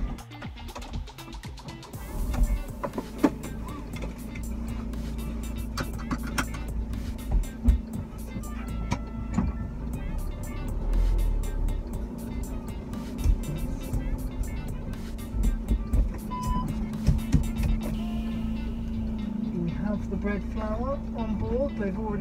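A van drives along a very bumpy road on a sunny day, with a steady low engine rumble, rattles and intermittent jolts and knocks running throughout.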